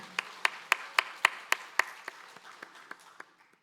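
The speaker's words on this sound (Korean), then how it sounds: "은혜를 주신 하나님께 영광의 박수 돌리겠습니다." A congregation at Sunday morning worship in Daegu's Ansim Church claps in slow, evenly spaced unison beats that grow softer and trail away into faint, scattered claps.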